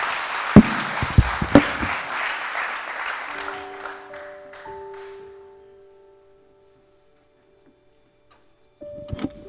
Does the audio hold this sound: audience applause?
yes